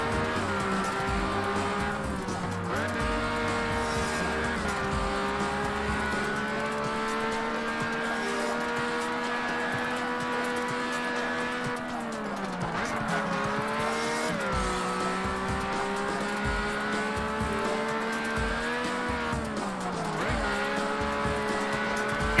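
A Lamborghini race car in a racing video game drives steadily with a loud, continuous engine drone whose pitch rises and falls through gear changes and corners, with occasional tire squeal, and no talking.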